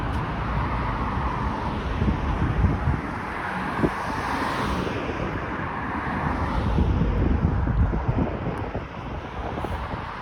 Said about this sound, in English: it's a little bit windy out